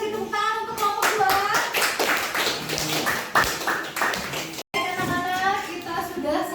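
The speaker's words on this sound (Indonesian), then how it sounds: "kasih tepuk tangan untuk kelompok 2." A classroom of children claps together for a group of classmates after their craft presentation, a dense burst of quick, overlapping hand claps under excited children's chatter, with a brief break near the end.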